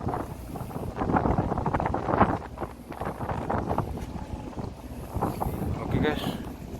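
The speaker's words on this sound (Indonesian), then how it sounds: "Angin cukup kencang di daerah Sungai" Strong wind gusts roar and buffet the microphone beside a ferry boat on a river in the Bangka area, steady and loud with rumbling low noise, and a voice speaks faintly beneath it.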